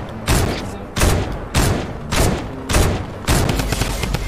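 Sniper gunfire in the Fortnite video game: six loud, sharp shots in an evenly spaced volley, each with a booming tail, close and dominant with no talk over them.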